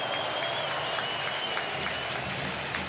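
A football stadium crowd at a Manchester United versus Galatasaray match applauding good wing play, heard as a dense, steady wash of clapping and cheering filling the whole stretch, with faint commentary mixed in.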